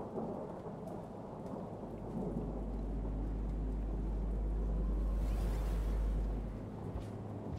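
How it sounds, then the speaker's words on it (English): Rain falls steadily in the video game Rain World while a long, low rumble of thunder swells and fades beneath it, heard alone without voices. "I love thunder."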